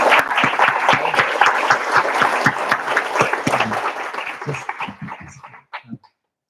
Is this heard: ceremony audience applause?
yes